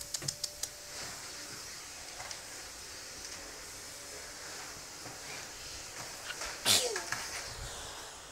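A single sharp sneeze bursts out midway through a quiet room, brief and fairly close, with faint clicks and rustles around it.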